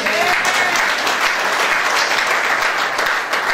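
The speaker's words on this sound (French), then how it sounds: "Acclamons pour Néhémie." A church congregation breaks into loud, dense applause, sustained clapping filling the room evenly for several seconds.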